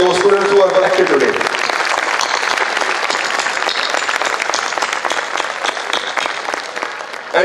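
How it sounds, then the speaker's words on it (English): Audience applause at a school Parents Day ceremony, a loud, dense wash of clapping that follows a brief voice at the start and carries steadily to the end. "give a great round of applause for those teachers and those students who are connected today"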